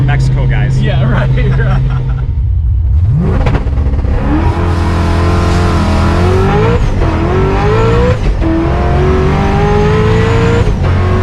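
A 1000+ HP Procharged Mustang nine-second street car accelerates hard in Mexico, its engine roaring loudly and close, climbing in pitch through several quick gear shifts.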